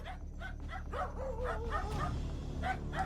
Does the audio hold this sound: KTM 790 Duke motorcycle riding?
no